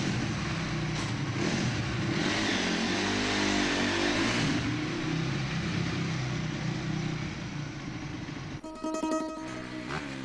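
Motorcycle engine revving loudly nearby, a dense, rough mid-range roar that swells and holds before dropping into a brief rattling idle near the end.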